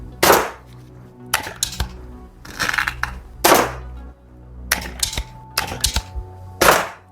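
An Umarex SPA 60 air rifle is fired several times, sharp close cracks spaced a second or so apart, mixed with mechanical clicks and clunks of handling between shots.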